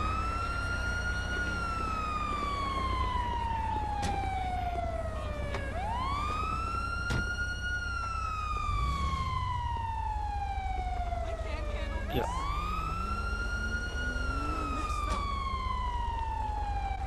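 Ambulance siren in a police video game, wailing loudly in long falling sweeps that repeat about every six seconds, close and continuous throughout.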